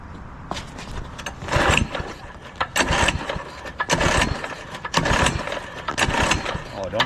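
Doodle Bug mini bike small engine starting after being choked, with repeated loud bursts of mechanical sputtering and revving up close, separated by brief quieter gaps.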